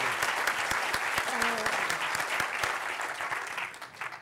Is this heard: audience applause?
yes